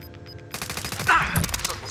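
MP5 submachine gun fire in Call of Duty Warzone rattles off in quick automatic bursts after a brief quieter start, loud and close, with faint talk mixed in.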